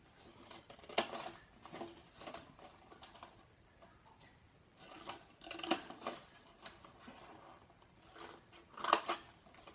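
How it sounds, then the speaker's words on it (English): Scissors cutting and notching card for a handmade gift box, quiet close-up snips in irregular bursts with three sharper clicks, separated by soft rustling pauses. "Then you're just going to cut up and notch out ever so slightly up to this 2 inch"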